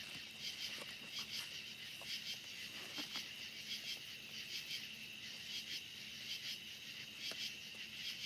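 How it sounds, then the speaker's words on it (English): Cicadas chirp on a quiet night outdoors, a faint, steady high-pitched drone with occasional soft ticks and no talking. "that's what cicadas sound like."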